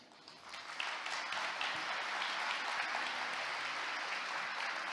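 Applause from a conference audience at How to Web 2019 after a startup growth talk, a steady, even wash of many hands clapping that swells in quickly and holds without talk.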